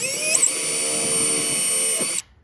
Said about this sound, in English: I'm going to get in here with my trusty Milwaukee drill, and I'm going to drill a hole dead center.